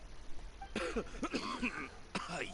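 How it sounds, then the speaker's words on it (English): A character in Genshin Impact coughs and clears the throat in a few short, voiced bursts, fairly faint and close, with no other sound around them. "Cough, cough."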